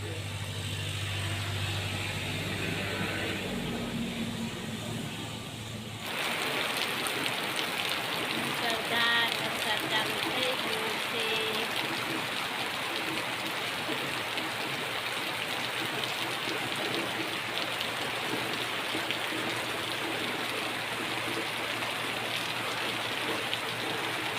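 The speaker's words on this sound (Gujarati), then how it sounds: "ખેતી લાયક વરસાદ એવું વરસાદ આવે છે" Steady rain patters densely on a surface, a continuous hiss after a quieter opening with a low hum and faint voices.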